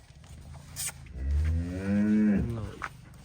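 A young breed calf or cow on a dairy farm lets out a single drawn-out moo that rises and then falls, close and clear against a quiet background.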